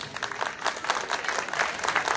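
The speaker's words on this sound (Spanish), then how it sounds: "Un aplauso para ellos." Audience at a school anniversary marinera dance contest applauds a competing couple, brisk clapping that swells and dips in quick pulses for a couple of seconds.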